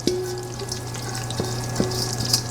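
A prime rib roast sears in a pan with its juices, producing a loud, continuous sizzle and crackle that stays steady and close, with a few faint scrapes and no voices.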